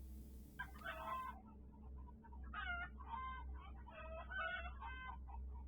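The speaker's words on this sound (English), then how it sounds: "sounds of chickens in a chicken coop." Chickens in a chicken coop cluck and squawk in short bursts over a low steady hum, fairly close, with brief pauses between the calls.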